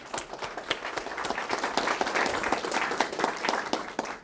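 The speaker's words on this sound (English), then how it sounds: "they deserve from us a little round of applause as well" An academic meeting audience gives the organizers a warm round of applause, dense clapping from many hands that builds and holds for about four seconds in a hall.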